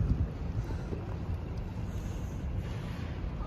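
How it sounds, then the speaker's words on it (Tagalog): Strong snowstorm wind blowing through a street in downtown Toronto near a hotel building, a steady broadband rushing roar with gusty mic buffeting that stays loud and constant throughout, with no talking. "Oh, sobrang lakas ng snowstorm."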